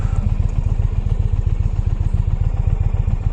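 An Indian Pursuit motorcycle being ridden, its engine giving a loud, steady, rapid low thumping pulse close by, with no talking.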